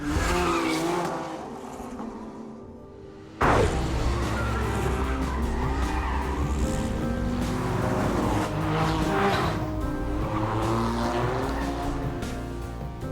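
A high-revving supercar engine, Bugatti EB110 Supersport or Jaguar XJ220, roars continuously at speed, pitch rising and falling through gear changes, with a sudden louder burst early on and tire noise.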